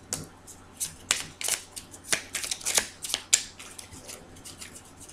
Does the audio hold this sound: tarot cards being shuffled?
yes